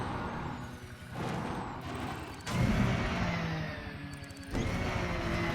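An SRV ground vehicle throttling up on a 1.1G world in Elite: Dangerous, a steady low mechanical engine hum that swells in two stages, with a hissing surge partway through and no voices.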